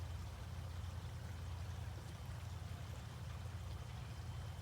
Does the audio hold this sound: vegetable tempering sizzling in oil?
no